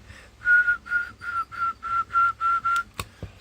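A Cobra 200 GTL DX CB radio, set to high power at about 100 watts, carries a whistled test tone: eight short, evenly spaced steady whistles, loud and clear, then a couple of sharp clicks.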